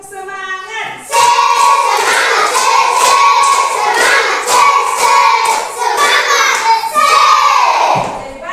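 A group of students clapping in unison at school, a few sharp bursts of coordinated claps followed by sustained rhythmic clapping and cheering voices over several seconds.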